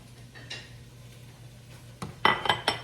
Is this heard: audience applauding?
no